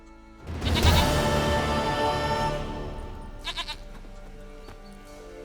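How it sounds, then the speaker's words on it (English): A goat bleats loudly and close in The Witcher 3: Wild Hunt, one long wavering cry that fades out, followed by a brief quieter bleat. "Goat of mine, dearest, sweetest goat."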